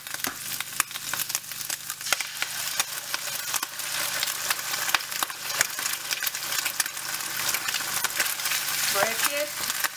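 Pork and eggs sizzle and fry in a pan for pork fried rice, a constant close crackle broken by sharp scrapes and clinks of stirring.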